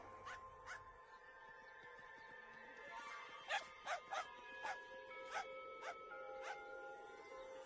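A dog barks in an animated show, six or seven short yips and bow-wows in quick succession over eerie music and background ambience.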